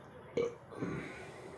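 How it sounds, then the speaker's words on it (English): A single short burp sounds close and fairly soft, followed by a low rumbling exhale, with no talk around it. "Excuse me while I burp."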